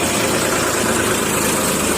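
A 2002 Swaraj 747 tractor idles at the Moga tractor market in Punjab, its engine giving a loud, steady, close rumble with no speech.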